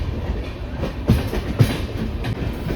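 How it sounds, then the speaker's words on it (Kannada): A passenger train rolls along the tracks with another train running parallel beside it, a loud steady rumble broken by rhythmic clickety-clack wheel knocks, heard from on board with no voices. "ನಮ್ಮ ಟ್ರೈನ್ ಜೊತೆಗೆ ಮತ್ತೊಂದು ಟ್ರೈನ್ ಪ್ಯಾರಲಲ್ ಆಗಿ ಹೋಗ್ತಾ ಇದೆ"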